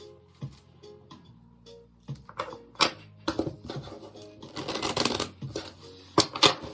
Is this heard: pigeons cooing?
no